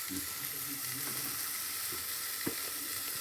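Coriander powder sizzling in a frying pan for a potato curry, a steady soft hiss running throughout with a few faint stirring clicks, close and even.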